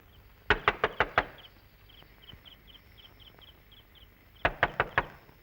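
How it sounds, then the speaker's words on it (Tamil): Two bursts of about five sharp knocks on a house door, the bursts a few seconds apart, with a faint steady insect chirping in the quiet between them. "யாரோ கதவு தட்டுறாங்கம்மா"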